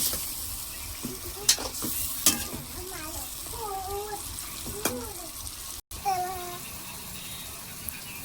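Hilsa fish pieces simmering in gravy after water is added, a soft bubbling and stirring close by with occasional clinks, while birds chirp faintly in the background.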